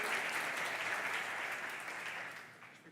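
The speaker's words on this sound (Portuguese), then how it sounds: "queria que você pudesse recebê-lo com uma salva de palmas" A studio audience applauds to welcome a guest onto a show, with a brief wash of many hands clapping that stays fairly quiet and fades gradually toward the end.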